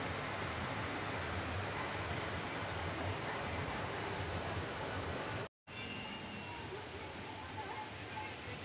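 Water released from a dam rushes past near a stone temple in Baikunthpur, Koriya, Chhattisgarh, a steady loud broadband roar of flowing water that continues throughout with a brief dropout.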